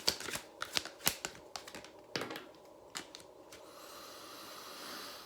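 Tarot cards shuffled by hand: a quick run of crisp riffling flicks and snaps close by over a few seconds, then quiet room hiss.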